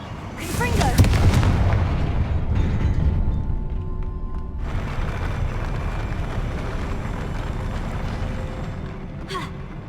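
A Confringo blasting curse goes off in Hogwarts Legacy as a loud, booming fiery blast that swells and then rolls into a long, rumbling roar of battle noise, with a sharp crackle near the end.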